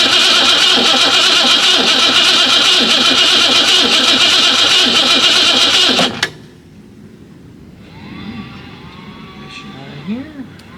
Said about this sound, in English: So we'll just crank it a bit and get some fluid, some gasoline into the carburetor.